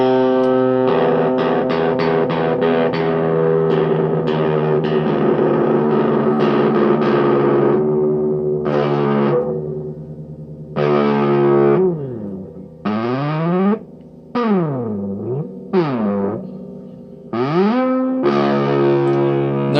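Electric guitar through a modified Rocktek distortion pedal, loud and heavily saturated, first sustained chords then choppy bursts with repeated slides up and down between short pauses.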